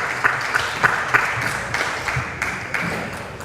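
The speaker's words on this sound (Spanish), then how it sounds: "lo recibimos con un fuerte aplauso" Audience applause welcoming a guest at a National Day of Persons with Disabilities ceremony, steady crowd clapping with individual claps standing out, moderately loud and sustained.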